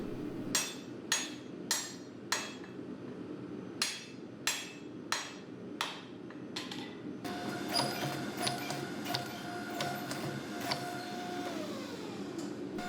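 A Damascus steel billet takes repeated hammer blows during forge welding: sharp, ringing strikes at an uneven rhythm, about a dozen in all. A continuous mechanical whine and rumble follows.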